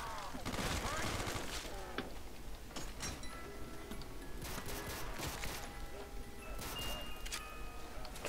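Rapid gunfire from a spammed Modern Warfare 3 (MW3) weapon in a video game, fired like a machine gun: a quick run of sharp shots over a busy game mix, with voices chatting over it.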